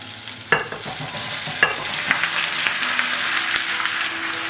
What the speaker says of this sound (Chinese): 洋葱炒香了，就把煎好的鸡翅放进来。